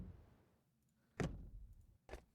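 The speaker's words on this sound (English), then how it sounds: "And utilities, so door closing." A car door shuts with a solid thud, followed by a second softer knock shortly after, quiet and close in an otherwise hushed background.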